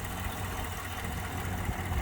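A 2014 GMC Sierra SLE pickup idles with its hood open, a steady, even engine drone that holds constant without revving.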